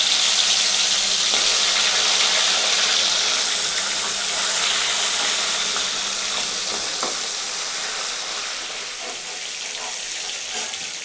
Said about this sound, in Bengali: সর্ষের তেল দিচ্ছি, মাছগুলো ভেজে নেব।